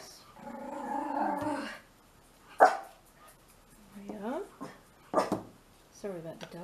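Dogs bark in short sharp bursts and growl at moderate distance inside a home craft setting, with a person talking over and between the barks.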